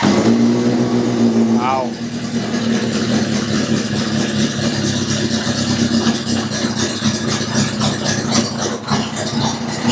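A Honda CB750 motorcycle engine catches with the choke on, then revs and settles into a loud, steady idle close by, while a voice speaks briefly over it.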